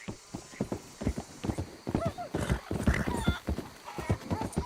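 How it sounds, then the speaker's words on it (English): A horse in Red Dead Redemption 2 clops along with steady, fairly close hoofbeats and gives a whinny partway through, all in the game's outdoor soundscape. "Hope I never have to be on that horse again, dang animals."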